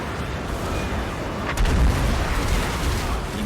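Hell Cannon artillery in the Total War: Warhammer 2 strategy game lands on an infantry blob, with a heavy booming impact punching through a rumbling battle din midway.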